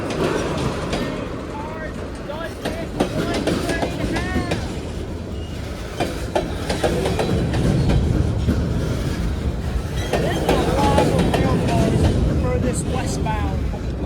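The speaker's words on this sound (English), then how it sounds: "We still got a lot more train cars to go." A long westbound Union Pacific freight train rolls steadily past at close range, its cars rumbling and clattering with rhythmic wheel clicks and squeals, while people talk intermittently over it.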